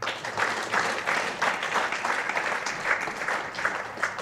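Steady applause from an audience at a Tamil film audio launch event, dense clapping that holds at an even level for the whole few seconds with no talk over it.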